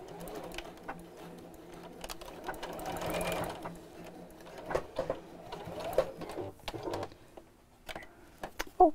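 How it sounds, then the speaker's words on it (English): A sewing machine stitches down one side of a recessed zip, its motor running in several short bursts with pauses between, moderately close, with faint handling noises and no talk. "And again, sew down this side."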